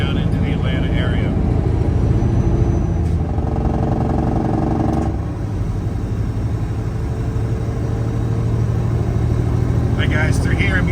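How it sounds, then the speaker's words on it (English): A big rig truck rolls down a steep downhill on its exhaust brake, a loud, steady low engine rumble and drone that dips briefly midway, heard from inside the cab. "through here I'm using the exhaust brake coming down the steep downhill"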